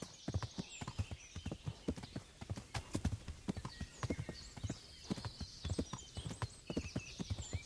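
Horse hooves clip-clopping in the video game Kingdom Come: Deliverance: a brisk, regular run of close, sharp hoof strikes with faint birdsong in the background.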